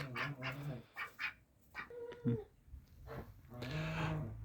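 Domestic ducks, including mute ducks kept for sitting on eggs, call in soft, irregular quacks and murmurs close by, with short bursts spread across a few seconds.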